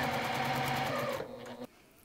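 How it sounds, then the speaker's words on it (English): A sewing machine runs steadily, stitching sawtooth star quilt blocks for a table runner, its close mechanical whir holding for over a second before slowing and stopping abruptly, with no talk over it. "So we're gonna take our stars over to the sewing machine,"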